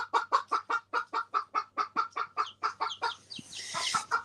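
A chicken clucks in a rapid, steady series of about sixteen close, distinct clucks, then breaks into a noisier, scratchy flurry at the end.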